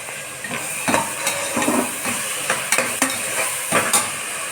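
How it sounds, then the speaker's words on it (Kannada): Chopped tomatoes go into a pan of frying pulao, raising a loud, continuous sizzle close by, broken up by repeated scraping and clinking of a spoon being stirred against the pan, with no voices. "ಟೊಮೆಟೊ ನಾವು ಹೆಚ್ಕೊಂಡಿದ್ದೀವಿ ಅದನ್ನು ಕೂಡ ಅದರೊಳಗಡೆ ಸೇರಿಸ್ತಾ ಇದ್ದೀವಿ"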